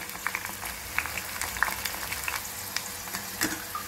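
Cabbage pakodi fritters frying in a pan of hot oil over a medium flame, giving a steady close crackle and sizzle with scattered sharper pops and light stirring taps.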